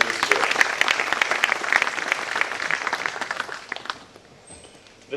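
Applause from a conference audience in New Delhi, a dense wash of many hands clapping for about four seconds before thinning out and fading to quiet near the end.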